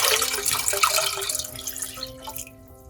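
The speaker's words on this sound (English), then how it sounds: "next I'll add in 4 cups of water to it" Water is poured into a pot of sugar to make syrup, giving a steady splashing stream that trails off into faint drips near the end.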